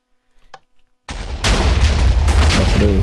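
A Minecraft TNT cannon goes off with a sudden loud boom, then a dense, heavy roar of repeated blasts and crackling that carries on, following a few faint clicks in near silence.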